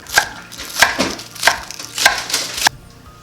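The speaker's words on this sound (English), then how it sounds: "I have 4 mini bell peppers, which I've already seeded. I'll just cut into little rounds." A knife slices seeded mini bell peppers into rounds on a cutting board, five crisp, loud chops spaced about half a second apart, close up and with no talk, then stopping.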